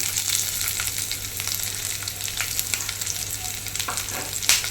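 Thinly sliced onion drops into coconut pieces already frying in oil for a Kerala beans stir-fry, giving a continuous close sizzle with light crackles and a few stirring scrapes.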